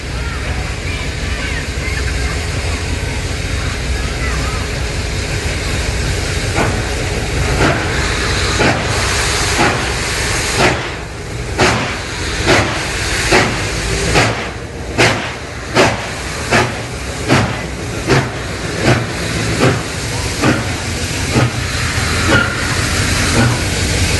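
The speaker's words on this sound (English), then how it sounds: "The engine eases the train forward to spot rear cars for loading." A steam locomotive chuffs in a steady, quickening rhythm with loud hissing, pulling rail cars forward close by.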